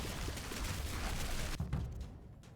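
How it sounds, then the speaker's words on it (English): Rapid overlapping explosions and blasts from a Holy Fire Paladin build in the game Conquest Dark, a dense, rumbling barrage that thins into a few scattered pops near the end. "there are a lot of explosions happening now"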